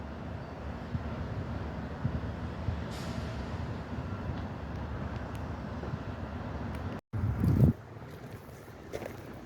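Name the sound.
model freight train on a layout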